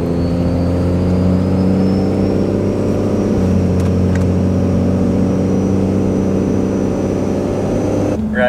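A 600+ hp Cummins diesel truck pulls hard in a 0-60 launch, its engine a loud, sustained droning roar heard from inside the cab, steady from start to finish with no talk.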